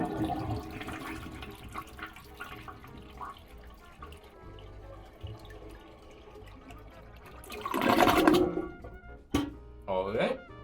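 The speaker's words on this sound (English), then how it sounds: "Now you can press and hold down the lever to drain all the water from the tank." A toilet tank drains as the flush lever is held down, a loud rush of water swelling near the end after a stretch of quieter room sound and talk.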